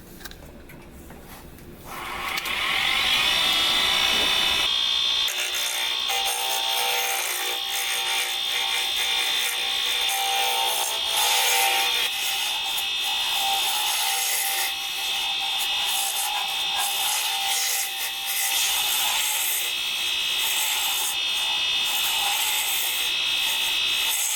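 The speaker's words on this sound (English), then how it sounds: "Now I'm going to turn the lathe on to the highest speed and we'll start turning." Wood lathe spun up to its highest speed while turning a pen blank, starting with a quick rising whine that settles into a loud, steady high-pitched hum with scraping and rubbing of the tool against the wood, continuous and close.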